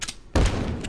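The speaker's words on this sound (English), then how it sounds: "Stop shotgunning me." A sudden loud shotgun blast in the game Abiotic Factor, one heavy booming shot that hits abruptly after a short lull and rings out briefly.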